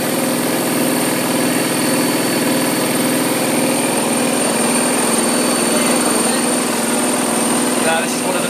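A repaired Hotpoint Aquarius WD420 1200-spin washing machine runs its spin cycle with a steady, loud whirring drone and faint tonal hum, continuous and unbroken throughout.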